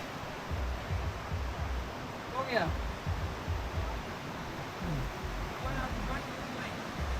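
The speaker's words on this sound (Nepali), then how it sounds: "खोलाको छेउमा" A river flows alongside in a steady broadband rush and roar, moderately loud and unbroken, with people talking faintly over it.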